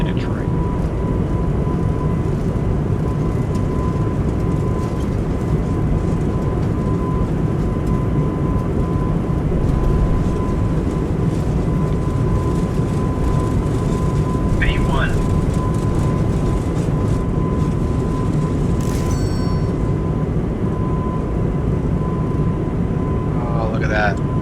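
An Airbus A220 takes off down the runway in a flight simulator game, with a loud, steady engine roar that holds for the whole stretch and a faint tone above it.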